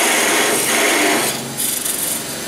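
A wood lathe turns a goblet blank held with tailstock support as a gouge cuts in, giving a steady, loud scraping and rasping whir that shifts in tone partway through, with no talking.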